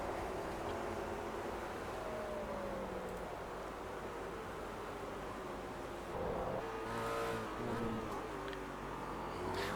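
Race cars circling the track in the iRacing simulator, a continuous buzzing engine whine that shifts pitch with speed changes, a dense steady drone with slight swells as revs rise.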